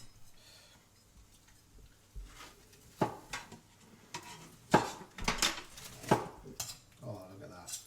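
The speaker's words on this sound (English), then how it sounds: "now we're going to slice our brisket" A knife slices through rested, slow-cooked rolled beef brisket on a board, with a series of soft cuts and sharp clicks of blade meeting board, fairly quiet and close.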